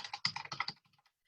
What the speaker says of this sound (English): And you type in your card number.